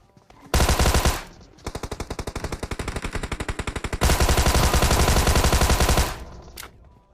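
Tommy gun fired in the video game PUBG: long loud full-auto bursts, a rapid stream of sharp shots with a brief gap and a slightly slower rattling stretch in the middle, then a final burst that stops abruptly.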